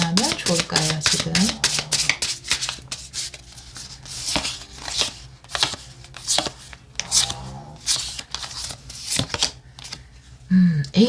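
Tarot and oracle cards are shuffled and laid out in quick, crisp riffles and slaps that run almost continuously, close and fairly loud, with a voice speaking now and then underneath.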